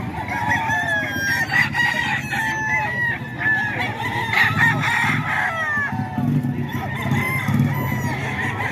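Several roosters crow over and over at a busy Bocaue poultry market, their loud overlapping calls mixed with clucking and a steady low crowd murmur throughout.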